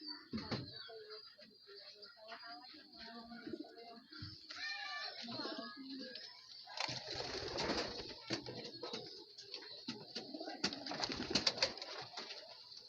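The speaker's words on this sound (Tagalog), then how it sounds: "Ito na yung ating mga kalapatids" Pigeons coo softly in a loft, with overlapping low throaty calls, some wing and body shuffling, and a faint steady background hum.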